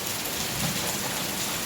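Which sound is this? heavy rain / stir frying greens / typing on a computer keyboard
heavy rain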